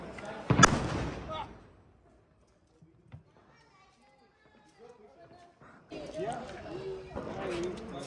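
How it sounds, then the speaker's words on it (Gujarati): A Diwali firecracker in Bhanvad bursts with one sharp loud crack near the start, then quiet, followed by people talking and background noise. "હવે ફટાકડા ફોડી દીધા છે આપણે"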